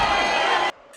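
A dense crowd cheering for the fighter PK after his win, a loud, close roar of voices that stops abruptly partway through, leaving near silence.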